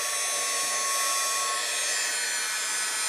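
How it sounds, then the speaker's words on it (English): A heat tool for embossing powder blows with a steady, high, airy whir, loud and close, running without pause. "now I'm going to bring in my heat tool, and I am going to emboss this"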